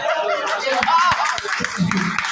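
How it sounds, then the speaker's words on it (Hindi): Clapping from a crowd at a Holi celebration gathering in Lucknow, steady and fairly loud across the whole stretch, mixed with chatter and voices. "अरे वाह, जोरदार तालियां"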